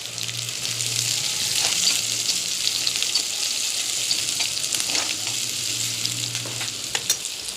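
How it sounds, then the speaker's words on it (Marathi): Chopped onion sautés in hot oil with cumin, mustard seeds and garlic, a continuous loud hissing sizzle with scattered small pops and occasional stirring scrapes, close and without voices. "मोहऱ्या, लसूण थोडा गरम झाल्यानंतर कांदा परतून घ्यायचा आहे"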